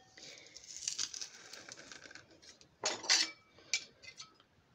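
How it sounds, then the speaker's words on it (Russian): Two garlic cloves are minced with a knife, giving quiet, close clicks and scrapes in short uneven bursts, with a louder cluster of chopping near the end. "Для второго слоя я 2 зубчика чеснока измельчаю"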